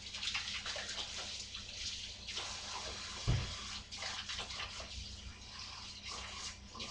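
Running tap water splashes steadily over buttery hands being washed at a kitchen sink, a continuous close hiss with one brief louder splash midway.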